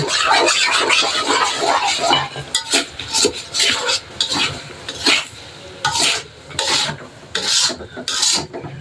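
Eggs stir and scrape in a pan of noodles, a close rhythmic scraping and rubbing in uneven strokes over a light sizzle, with no talking.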